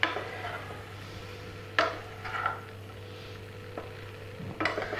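A spoon scrapes and stirs aloo gobi sabzi of potato and cauliflower in a pan with the gas switched off, giving a few soft scraping strokes and clinks over a low steady hum.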